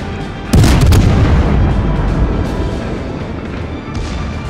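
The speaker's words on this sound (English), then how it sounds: "Now my secondaries are opening up." Secondary guns on the cruiser Budyonny in World of Warships open fire with a loud, close boom followed by rumbling rapid reports and a sustained roar of gunfire and distant explosions.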